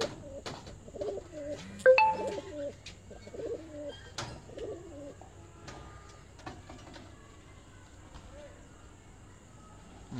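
Shy pigeons coo in soft, rolling bursts on a rooftop, close and fairly quiet, while someone talks over them and faint background noise runs underneath.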